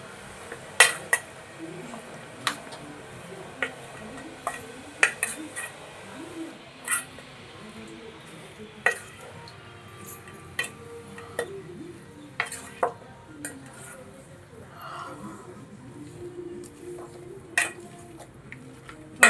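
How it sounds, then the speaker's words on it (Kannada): Raw mutton is mixed with salt, chili powder and masala in a metal vessel, making scattered sharp clinks and scrapes at an irregular pace over a low background. "ಇವಾಗ ಇದು ಎಲ್ಲ ಮಿಕ್ಸ್ ಮಾಡ್ಕೋಬೇಕು ಫುಲ್ಲು ಮಿಕ್ಸ್ ಮಾಡಿಕೊಂಡು ಉಪ್ಪು ಖಾರ ಮಸಾಲೆ ಎಲ್ಲ ಚೆನ್ನಾಗಿ ಹಿಡ್ಕೊತಂದ್ರೆ"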